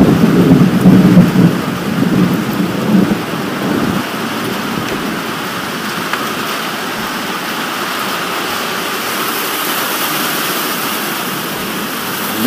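Steady heavy rain roars throughout, with a low rumble of thunder early on that fades into the constant downpour.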